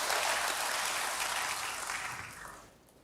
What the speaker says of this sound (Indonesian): Berikan tepuk tangan sekali lagi bagi Tuhan.